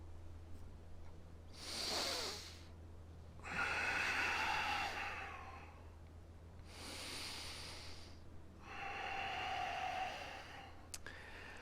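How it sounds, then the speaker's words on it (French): Four slow, deep yoga regulating breaths, each a broad airy rush lasting a couple of seconds, with alternating inhales and exhales separated by short quiet pauses over a low steady hum, close and moderately loud. "quelques souffles de régulation"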